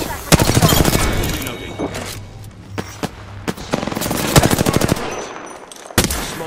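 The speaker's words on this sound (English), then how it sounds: "Smart bullet firing" Smart bullet gunfire in Apex Legends, a series of sharp shots in bursts and single cracks spread across the clip. Close and loud, with short pauses between volleys.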